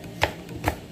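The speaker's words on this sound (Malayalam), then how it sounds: "2 സവാള എടുത്ത് ചെറുതായിട്ട് ഇങ്ങനെ അരിഞ്ഞെടുക്കുക." A knife chops onions finely on a board for Kerala-style mutton roast, giving two crisp, separate strikes about half a second apart in an otherwise quiet kitchen.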